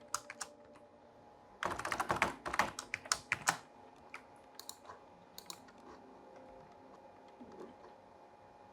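Quiet, close keyboard typing as a numeric password is entered on a computer, with a quick burst of clustered keystrokes followed by sparser single taps.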